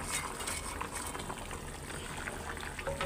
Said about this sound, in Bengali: তরকারি বলক চলে আসছে